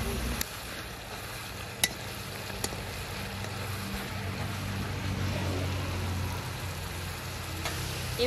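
Ginger-garlic paste hitting browned onions in a hot pan for a chicken leg curry, giving a steady broad sizzle throughout with a few faint clicks from a spoon, fairly loud and unbroken.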